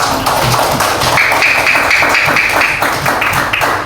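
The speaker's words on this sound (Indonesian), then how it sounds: "Semuanya tepuk tangan untuk kita semua" Classroom students applauding together at the close of a lesson, a steady dense patter of many hands clapping at close range for nearly four seconds.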